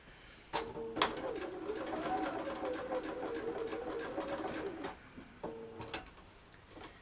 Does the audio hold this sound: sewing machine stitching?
yes